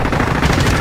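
Rapid automatic gunfire crackles loud and dense throughout a Call of Duty: Warzone match on Rebirth Island, a continuous burst of overlapping shots with no pauses.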